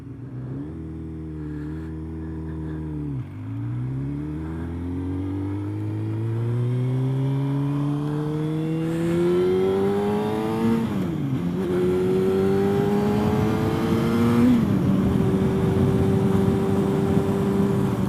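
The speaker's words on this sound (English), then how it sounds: "let's let these cars go." Motorcycle engines, including 600cc sport bikes, rev and accelerate as they pass on a road, rising pitch sweeps through repeated gear changes, loud and close throughout with no talking.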